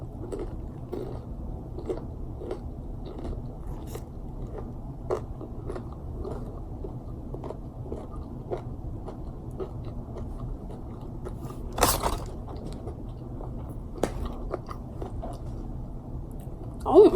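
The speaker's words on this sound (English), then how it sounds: "So I'm gonna take my first bite." Bites into a Popeyes chicken sandwich give a series of soft, repeated crunches and chewing sounds up close over a quiet background, with one sharper crunch partway through.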